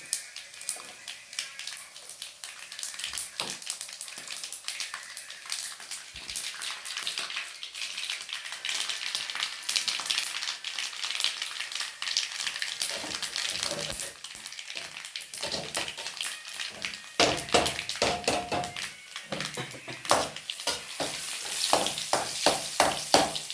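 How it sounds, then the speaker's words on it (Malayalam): Mustard seeds pop and splutter in hot oil for a dense, steady crackle of sharp little bursts, growing busier toward the end, with no talking. "കടുക് പൊട്ടി വരുന്നുണ്ട്."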